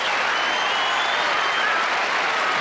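Tennis crowd applauding at the 1981 US Open final, a dense, steady roar of clapping that fills the whole moment without pause, loud and close.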